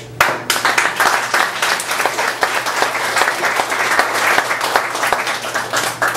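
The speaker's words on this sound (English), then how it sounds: "I think it deserves a round of applause." A crowd applauds at a chapter naming ceremony, honoring a church layman; individual claps stand out sharply within a steady, lively patter that carries on evenly.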